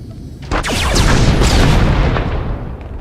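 Blaster fire and booming combat effects from Star Wars: The Old Republic, a dense burst of loud shots and impacts rolling together for a few seconds with no voices.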